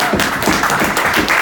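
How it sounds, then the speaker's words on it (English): A room full of people at a startup pitch night applauding, steady dense clapping throughout at close range. "that's another big clap right there"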